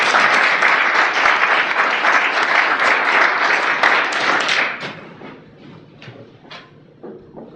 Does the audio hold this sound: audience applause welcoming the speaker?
yes